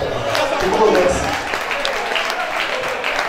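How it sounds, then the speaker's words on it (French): An audience at an artists' awards ceremony applauds in a steady, moderately loud wave of clapping, with a voice speaking over the start. "on l'applaudit très fortement, encore une fois"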